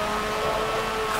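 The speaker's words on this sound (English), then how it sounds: "God, you hear the difference in the exhaust now," Car exhaust crackling and droning from a Korean car in Forza Motorsport 7, heard from the outside view: a steady, loud engine and exhaust tone with a buzzy rasp, continuous throughout with no talk.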